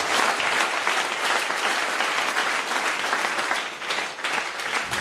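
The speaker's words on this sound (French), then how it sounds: "Acclamons le roi des rois." Sustained, loud applause from a church congregation at a healing and deliverance service, a dense steady clapping that fills the whole stretch with a slight dip near the end.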